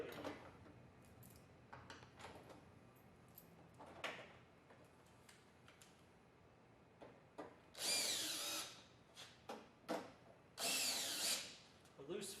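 A power screwdriver with a torque limiter drives screws into the tailgate of a drop-in bedliner on a 2015 Ford F150, giving two loud, close whirring bursts among quieter clicks and handling noises, with faint talk in the background.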